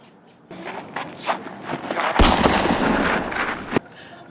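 Gunshots echo in a dramatic scene, a series of loud sharp bangs and crackles over several seconds, with a heavy blast near the end before the noise cuts off.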